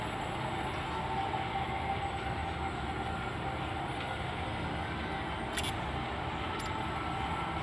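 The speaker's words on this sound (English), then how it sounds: "Tram now leaving the station." A video game tram pulls out of its station with a steady rumbling roll and rail hum that holds even throughout. Two brief, high metallic squeals cut in near the end.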